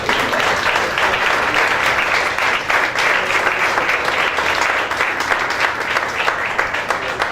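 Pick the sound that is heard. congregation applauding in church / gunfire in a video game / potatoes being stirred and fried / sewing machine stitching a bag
congregation applauding in church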